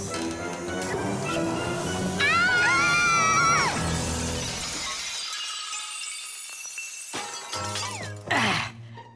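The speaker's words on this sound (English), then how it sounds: "And who's going to clean up all this broken glass?" Glass shatters loudly in a cartoon laboratory, a long crashing cascade of breaking pieces with bright ringing tinkles that fades out, then a final short clatter near the end.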